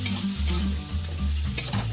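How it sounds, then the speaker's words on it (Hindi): Spoon stirring a yogurt mixture in a bowl for dahi bhindi, a repeated close scraping and sloshing rhythm with a steady low hum underneath, no talking. "इसे मिक्स करूँगी"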